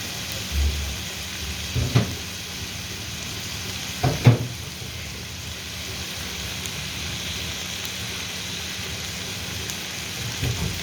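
Chicken and vegetables frying in oil for restaurant-style chicken fried rice, a steady hissing sizzle with a few dull knocks of a pan or spatula, moderately close and without voices.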